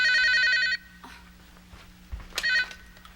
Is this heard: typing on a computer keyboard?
no